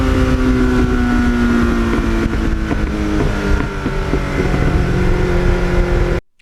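A 1989 Kawasaki GPX750R motorcycle with a Muzzy muffler is ridden at a steady pace, its engine a continuous close drone mixed with wind rush, cutting off abruptly at the end.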